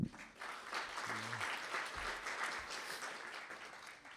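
Audience applause at a trade cooperation seminar in a conference hall, a steady broadband patter of many hands clapping that holds for about four seconds at moderate level.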